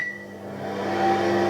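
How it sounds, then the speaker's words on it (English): A microwave oven runs with a steady electrical hum, and a short tone sounds over it. "there's the sound of the microwave"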